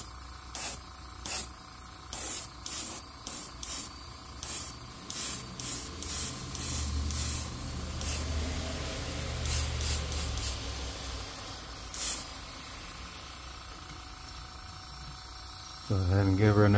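Airbrush spraying paint coats onto a fishing crankbait in a craw pattern, fired in repeated short hissing bursts, mostly evenly spaced, with a low background hum and a person talking quietly underneath.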